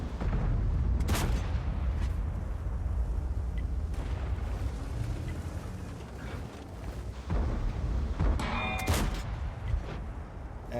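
Tank cannon fire in the World of Tanks video game, two heavy booming shots about a second and eight seconds in, each standing out loudly over a rumbling battlefield background.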